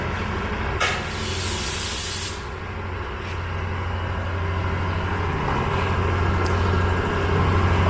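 A Honda Spacy 110 scooter engine starting with a brief hissy crank, then settling into a steady, even idle hum that continues close and constant for several seconds.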